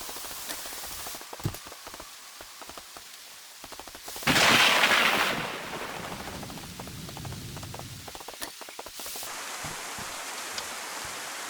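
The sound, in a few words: heavy rain in the DayZ video game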